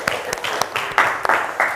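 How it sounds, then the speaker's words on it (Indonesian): Classroom applause for a grade 8 class, with bursts of close clapping coming in uneven rhythmic waves and a few sharper individual claps standing out. "tepuk tangan buat 8F"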